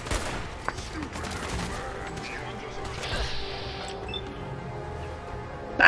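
Gunfire in Fallout 4 cracks out as a few sharp, scattered shots over a low game background, with a burst of rapid clatter partway through.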